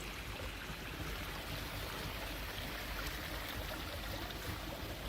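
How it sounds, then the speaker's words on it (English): A small waterfall on rural land in Thailand gives a steady, dense rush of falling water, constant and fairly close, with no voices. "There's my waterfall."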